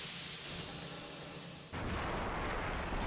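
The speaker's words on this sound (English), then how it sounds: "The Nautilus continues to make a show of firing its cannons" An airship's cannons in the Code: Realize video game fire in a rumbling barrage, a steady roar that jumps to a heavier, deeper boom partway through and keeps rolling loud to the end.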